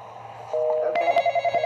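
An in-game telephone rings in the Intruders video game, a steady electronic tone that breaks into rapid pulsing trills near the end, clear and moderately loud with no voices over it.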